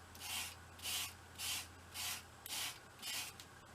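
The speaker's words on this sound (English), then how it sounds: "I'll take and sand this end down" Sandpaper rubbing the end of a bent wood twig ring, six even back-and-forth strokes in a steady rhythm, close and fairly soft.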